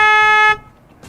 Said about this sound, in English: This car's horn just does not match its looks. Have a listen to this. It's like the horn of a van.